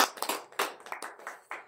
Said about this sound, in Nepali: ताली बजाएर